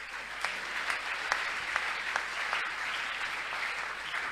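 Church talk-show audience applauding in praise of Jesus, a steady dense wash of clapping with a few sharper claps and cheers, moderately loud and continuous with no talk over it.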